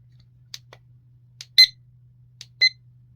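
A small desk timer from a minimal productivity desk kit sounds its alarm: short, bright electronic chirps in quick pairs, spaced about a second apart, over a faint steady hum and otherwise quiet.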